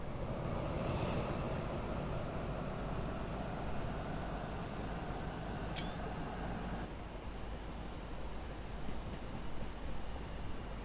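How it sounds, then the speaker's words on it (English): A train trundles along a South Wales coast line in Train Simulator 2017, a steady broadband rumble held at an even level throughout with no talk. "there's a train down there trundling along"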